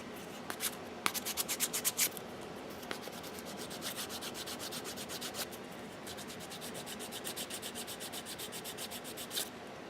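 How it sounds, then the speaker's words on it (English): Quiet, repeated rubbing strokes of sandpaper on polymer clay, a rhythmic scratchy back-and-forth that continues in bursts for about ten seconds, close and soft with no talking. "This is an example on how you can sand the clay."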